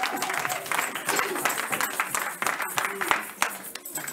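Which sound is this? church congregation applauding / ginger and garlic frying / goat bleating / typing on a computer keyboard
church congregation applauding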